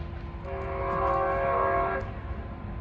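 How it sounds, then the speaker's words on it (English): A train sounds a loud, sustained horn chord for about a second and a half over the rumble of rolling wheels, heard from nearby during a snowy drive in Montana. "Oh, that train's really loud."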